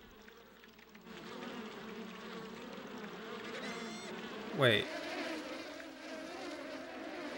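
Bees buzzing in the PS2 video game Piglet's Big Game, a steady droning hum with a brief louder swoop midway, while a person talks over it.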